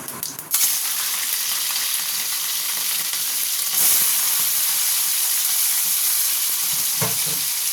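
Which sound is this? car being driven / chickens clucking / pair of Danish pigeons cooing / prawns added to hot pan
prawns added to hot pan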